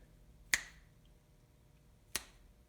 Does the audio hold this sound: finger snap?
yes